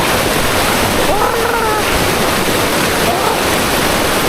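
Steady roaring rush of a small mountain-valley waterfall swollen by monsoon rain fills the whole clip, loud and close, with faint voices briefly audible underneath.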